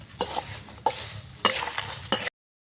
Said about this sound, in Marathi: लिंबू टाकून घ्यायचा, मिक्स करून घेते.